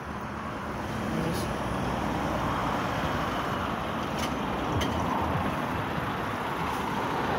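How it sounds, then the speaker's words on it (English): Lorries pulling out of a creamery in Stranraer, a steady broadband rumble of heavy road traffic with a brief air-brake hiss, continuous and fairly close throughout. "There's a few lorries heading out"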